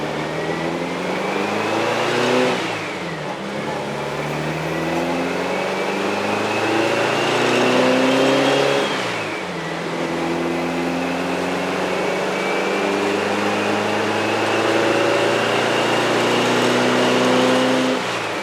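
A 1970 VW bus engine runs while driving, a loud, steady air-cooled drone with repeated rising pitch sweeps as it accelerates through the gears, shifting twice, with no talking.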